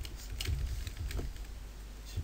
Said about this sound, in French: Bourrinage de clavier.